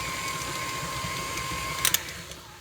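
Electric mixer creaming cookie dough, a steady whirring mechanical drone with a faint high whine and a couple of brief clicks, moderately quiet and continuous.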